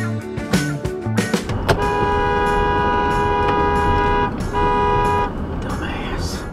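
A car horn blares in a long sustained honk, preceded by a few short toots, loud and close over traffic rumble.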